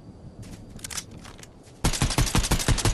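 Rapid gunfire in the Fortnite video game, with a scattered burst of shots at first followed by a loud, dense stream of automatic fire in the second half.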